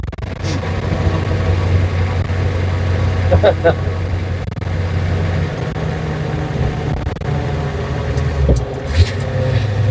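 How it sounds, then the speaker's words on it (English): A 1986 Ford F350 Megacab truck's engine drones steadily from inside the cab as it downshifts, the low rumble rising slightly in pitch, with people talking over it. "That's a good downshift."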